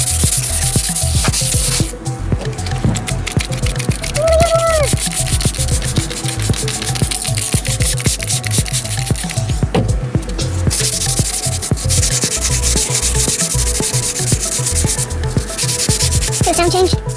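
Steady abrasive sanding of a foggy surface, a continuous loud rubbing with brief pauses, the scratchy texture easing from rough toward smoother as the pass goes on.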